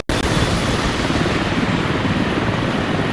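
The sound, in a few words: helicopters spinning up on helipads in a video game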